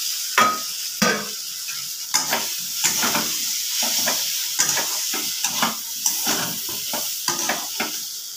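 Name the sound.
fried pieces added to frying spice paste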